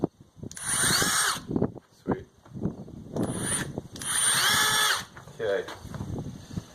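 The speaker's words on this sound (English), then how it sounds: "I have now re-enabled the drill" A power drill runs in several bursts of whirring, separated by brief pauses. A person speaks briefly between the bursts.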